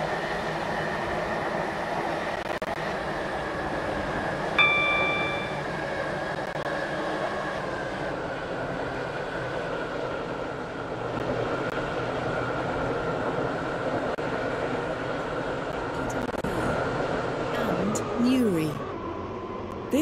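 A three-coach passenger train on the Esterfield–Newry line runs near Faraday Road station, heard from inside as a steady low rumble and hum with faint rail clatter, while a recorded announcement voice speaks over it.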